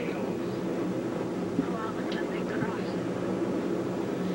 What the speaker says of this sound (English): you see that plane over there?